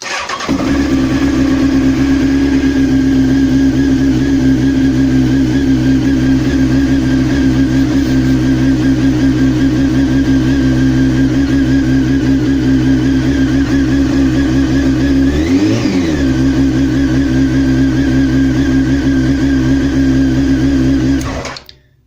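A Honda CBR929 sport bike with a new stator and regulator rectifier runs steadily at a close, loud idle for about twenty seconds, with one brief blip of revs near the end before the engine cuts off.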